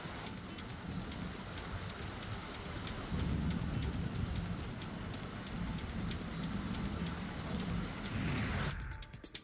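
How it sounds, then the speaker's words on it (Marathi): Monsoon rain pours steadily in Maval, a dense, loud hiss of drops on surfaces with deep low rumbling like thunder swelling underneath, continuing unbroken until it cuts off at the end. "मावळमध्ये मेघगर्जनेसह पाऊस बरसला"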